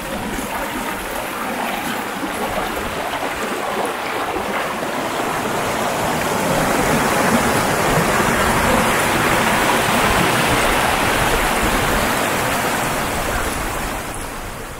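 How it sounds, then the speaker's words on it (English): A river on Dartmoor near Yes Tor flows in a steady, rushing wash of water that swells a little louder midway before easing, with no voices over it. "There's something about walking by the river."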